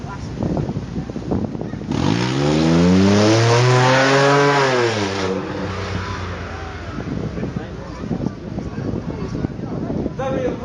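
A Porsche GT2 sports car with a sports exhaust sweeps past on a track at the Beaulieu supercar event, its engine note rising and falling loudly as it passes close by, over a bed of crowd and wind noise.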